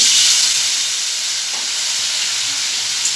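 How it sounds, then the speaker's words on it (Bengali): Potatoes fry in a pan with a loud, steady, close sizzling hiss that barely changes over a few seconds, with no voices. "লাল লাল করে আলুগুলোকে ভেজে নেবো"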